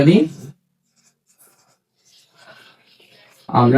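A formula being written by hand for a school algebra lesson: a soft, brief scratching of pen or chalk in a quiet gap between stretches of speech.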